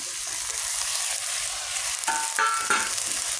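Vegetables go into a hot frying pan over a spiced masala. A steady sizzle rises into a brief clatter and hiss as the pieces drop in and are moved around, close and clear.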